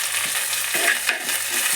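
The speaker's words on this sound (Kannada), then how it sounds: "ಸ್ವಲ್ಪ ಬಾಡಲಿ, ಅಂದರೆ ಫ್ರೈ ಆಗಲಿ ಸ್ವಲ್ಪ. ಇವಾಗ ಟೊಮೆಟೊ ಹಾಕ್ತಾಯಿದ್ದೀನಿ." Chopped onion and tomato frying in a pan for Mangalorean-style crab sukka, with a dense, close sizzle and a few stirring scrapes, no talk.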